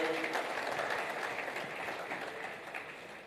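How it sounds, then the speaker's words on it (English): Steady applause from an audience, a dense wash of clapping that holds for a few seconds and tapers slightly toward the end. "Can we give her a round of applause?"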